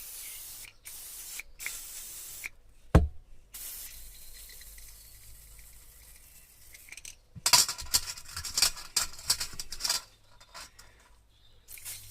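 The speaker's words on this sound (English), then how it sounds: "just spray through, making sure that the tiny little pilot holes are clear" An aerosol can of carburetor cleaner sprays in short hissing bursts close by into a Vespa PX carburetor's pilot holes, separated by quiet gaps, with a brief clunk partway through.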